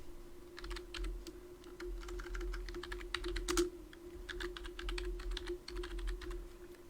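Rapid keystrokes on a computer keyboard, a fast uneven clatter of clicks in bursts over a steady low hum and tone, close and fairly loud, with no talking.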